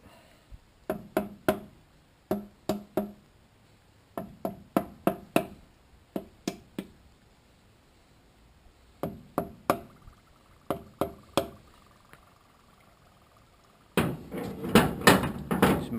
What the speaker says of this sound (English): let me get my favorite tool, my hammer, and just tap it slightly.